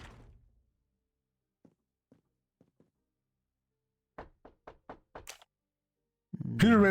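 Knocking on a door in the Murder on the Orient Express video game: a few faint, spaced taps, then a louder, quicker run of about six knocks, followed by a short burst of voice at the end.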